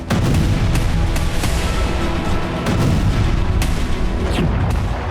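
Explosions from Israeli bombing in Tulkarm in the West Bank ring out as repeated heavy booms and sharp cracks, one after another, loud and dense with a rumbling low end and no voices.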